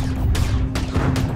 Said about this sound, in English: launching torpedoes. And another torpedo